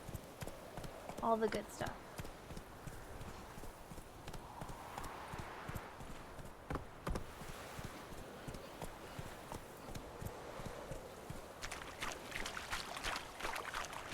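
Roach the horse trots in The Witcher, with hooves clip-clopping in a steady rhythm throughout while a person talks over the game sounds.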